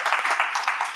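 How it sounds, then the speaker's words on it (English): Audience applause for a speaker at a hackathon talk, a brief burst of dense clapping, fairly close and steady, with no speech over it. "Nice applause for Esther."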